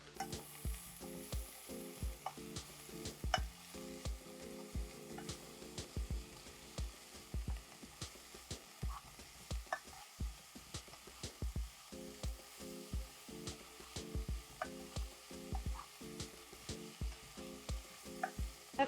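Vegetables stir fried in a hot pan, with a steady sizzle broken by repeated scraping and tossing clacks of the utensil against the pan at a quick, uneven rhythm, close up and alone.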